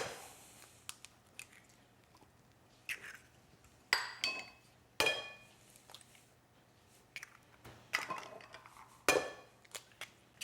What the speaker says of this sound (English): And we're just going to break the eggs.